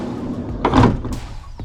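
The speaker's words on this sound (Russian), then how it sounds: "из салона автомобиля непосредственно отсюда можно заблокировать и открыть обе двери" Sliding side door of a 2024 GAZelle NN van moving on its track, a short rolling rumble ending in a dull thunk, close and fairly loud, no talk.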